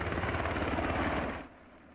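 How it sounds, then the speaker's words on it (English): An RCMP Black Hawk helicopter in flight over the Alberta border gives a loud, close, pulsing rotor thrum that drops away abruptly after about a second and a half. "Mounties releasing footage of the chopper in flight."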